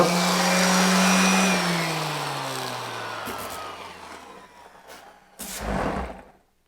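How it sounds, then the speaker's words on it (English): Power sander working over a wooden serving tray to strip off putty, a steady broadband whir that holds loud, then fades and tails off, with a couple of brief knocks and a short burst near the end. "I got to sand this down, get all the putty off it, make it nice."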